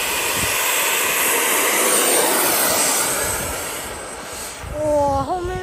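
An XFLY 80mm T7A RC model jet taking off, a loud continuous jet-engine roar that swells and then eases, ending with a rising whine as it climbs away.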